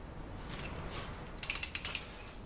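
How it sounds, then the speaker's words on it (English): A torque wrench tightening a bolt on a MINI Cooper Roadster during a transmission oil change gives a quick run of about six sharp ratcheting clicks, close and fairly faint against a quiet background. "So let's go ahead and torque. This guy."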